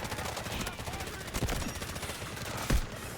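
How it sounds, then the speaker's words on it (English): Artillery barrage in the video game Delta Force: a steady roar of rapid gunfire with heavier booming impacts near the middle and end, loud and close. "Artillery barrage incoming."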